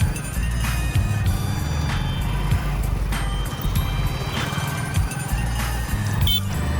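A motorbike rides along a potholed village road, its engine a steady close droning rumble with wind buffeting and occasional bumps and rattles throughout.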